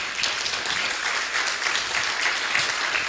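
Church congregation applauding during a sermon, a dense, steady wash of many hands clapping that fills the room for several seconds without pause.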